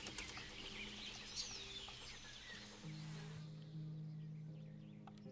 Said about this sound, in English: Probably a bird noise.